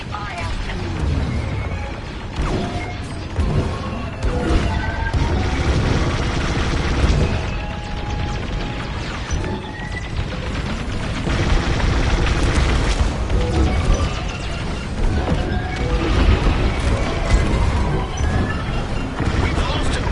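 Heavy gunfire and booming explosions from a PS4 combat game with enemy fighters, a dense, continuous roar of blasts and crashes lasting the whole stretch, with faint voices mixed in.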